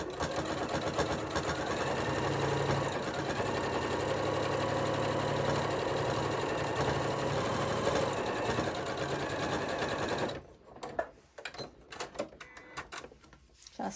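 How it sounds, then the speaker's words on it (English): A sewing machine runs steadily, stitching a keychain wristlet at a 3.0 mm stitch length with a fast, even whirring drone for about ten seconds, then stops and is followed by a few light clicks and handling noises. "I'm going to stitch about 1/4 of an inch away from the previous row of stitching"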